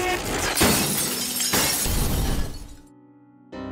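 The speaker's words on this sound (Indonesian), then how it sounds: "Lampu ruangan berkedip hingga akhirnya pecah seketika." Room lights in a morgue shatter as a film sound effect: two loud bursts of breaking glass with crashing, scattering debris, then a sudden drop to a low tonal hum before noise returns.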